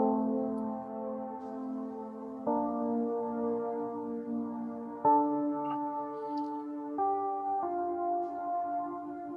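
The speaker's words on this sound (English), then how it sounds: "So I played that on some pads." Sustained synth pad chords, warm and layered, changing every couple of seconds in a slow progression with no other sounds.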